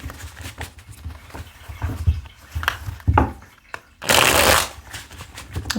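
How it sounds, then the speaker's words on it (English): Tarot cards shuffled by hand in a series of papery riffles and flicks, ending in a loud, dense burst of card shuffling near the end, close up, with no talking. "I'm just going to shuffle these cards on camera."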